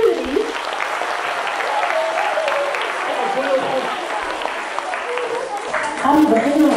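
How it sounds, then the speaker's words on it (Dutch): An audience at a children's reading competition in Drimmelen claps loudly for several seconds, dense and steady, while voices murmur and call out beneath it. "zullen we ze even een groot applaus voor geven?"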